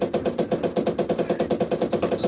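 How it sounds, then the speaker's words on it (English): Rapid gunfire in the World War II game Call To Arms Gates of Hell Ostfront, a dense regular burst of sharp shots repeating about every tenth of a second, loud and close, with no talk. "Was that an AT rifle? It was."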